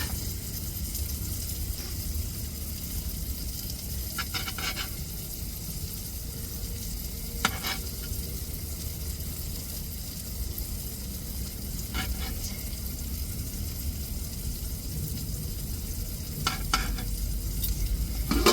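Pieces of fish roe frying and being stirred with tomato and onion in a pan, a steady close sizzle with occasional scraping stir strokes, no talking.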